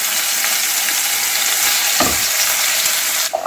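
Steady, close sizzling and crackling of garlic and spring onion frying in a hot pan with salt, with a brief stir or scrape partway through.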